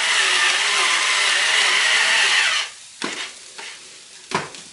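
Grated potato mixture with fried bacon for Swiss-style potato pancakes, a loud continuous wet scraping and churning for a few seconds, then three separate softer scrapes of the spoon against the bowl.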